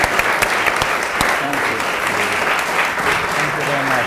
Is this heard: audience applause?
yes